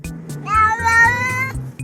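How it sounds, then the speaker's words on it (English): A cat gives a clear, drawn-out meow that sounds like a greeting, one close and loud call rising and holding before it fades. "Hi, cat who says hello on the internet."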